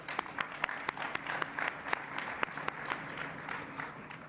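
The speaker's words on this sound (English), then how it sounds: "They open their mouths to speak and you lot applaud." An audience at a peace panel applauds, a steady patter of many hands with sharper individual claps standing out in an even stream.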